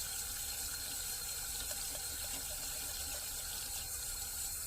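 Running water pours steadily into a bathtub being filled to wash a brass instrument, a continuous close hiss and gush that holds unchanged with no voices over it.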